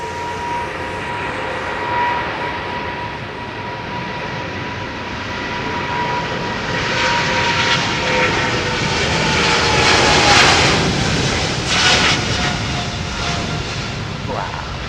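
Jet airliner engines with General Electric engines roar at London Heathrow Airport on runway 27R. A loud, continuous broadband rumble swells and peaks near the middle before easing slightly.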